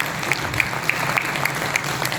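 Brief applause from the audience at a Urdu poetry mushaira in Barcelona, a steady wash of many hands clapping at moderate distance with a few sharper claps standing out, no voices over it.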